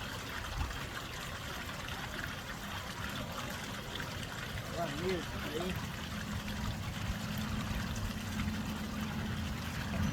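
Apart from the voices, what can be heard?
water flowing into a gold sluice box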